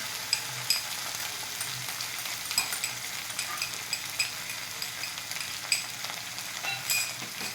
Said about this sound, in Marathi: हा मसाला घातल्यानंतर पूर्ण थोडं हलवून घ्यायचं म्हणजे तिथं आवाज आला की त्याच्यातला जो कच्चा पण आहे तो निघून जातो